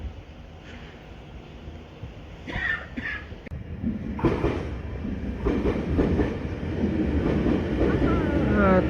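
A train bound for Tainan City, Taiwan, rolls into a Xinshi District station and passes nearby, its rumble and wheel clatter building louder toward the end, with a brief cough and some background voices.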